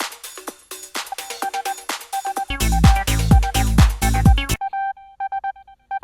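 Synth acid line with repeating short resonant notes, first alone, then joined by a loud thumping full mix with booming lows, then dropping back to the thin sequenced line on its own.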